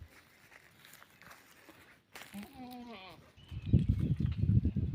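Goats at a farm, one giving a short bleat partway through, followed by louder rustling and shuffling close by; a person talks briefly.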